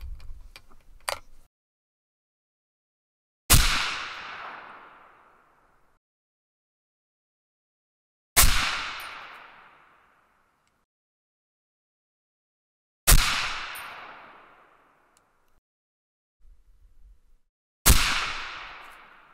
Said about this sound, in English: let's see if we can shoot a group